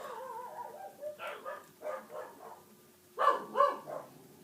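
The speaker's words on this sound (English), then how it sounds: "My dogs bark at nothing." Indoor dogs bark in short, sharp bursts close by: a series of about six yaps with a whiny, high-pitched edge, the last pair louder, over a quiet background.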